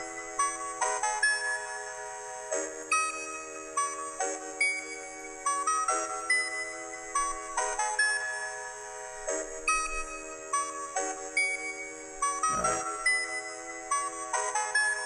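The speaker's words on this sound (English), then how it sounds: "Just a kind of like slight reverse effect." A bright, bell-like melodic trap loop repeating a short phrase, each note swelling in softly from a slight reverse effect.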